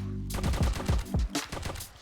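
An AK rifle firing in the video game Project Zomboid while fending off a zombie horde: a rapid, close burst of several sharp shots in quick succession, loud and alone.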